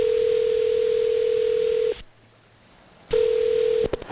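A steady telephone ringback tone on a call to a McDonald's restaurant in Toledo, Ohio, sounding in two long unbroken stretches separated by about a second of near silence, loud and close with no talking.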